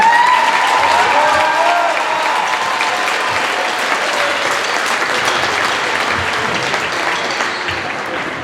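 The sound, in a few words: audience applause for 6th grade band class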